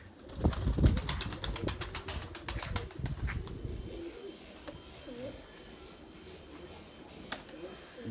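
Domestic pigeon brooding on eggs in a loft, giving soft cooing calls amid faint wing flaps and rustling, close and fairly quiet, with someone talking over part of it.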